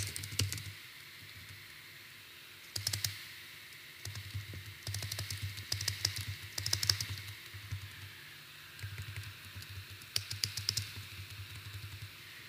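Computer keyboard keys tapped while filling in a routing table for a TCP/IP networking exercise: scattered short bursts of light, quiet clicks over a steady low hum, with no one talking.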